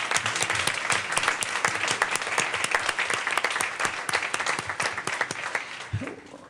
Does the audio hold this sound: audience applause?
yes